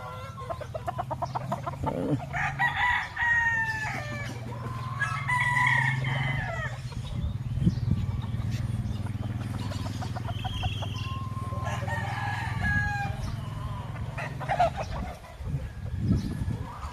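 Several roosters crow in turn, loud and close, with clucking hens and a low steady hum underneath.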